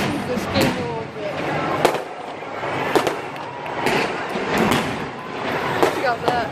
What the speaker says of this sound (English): What a great time to set off fireworks.